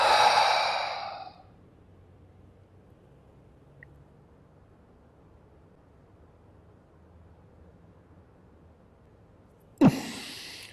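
A strong forced exhalation in a yoga breathing exercise rushes out close and loud for about a second, followed by a long near-silent hold, then a short sharp breath sound near the end.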